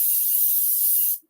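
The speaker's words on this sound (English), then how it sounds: "You want to spray the griddle with all of this." Cooking spray hisses onto a griddle in one continuous, close burst of just over a second, then cuts off sharply.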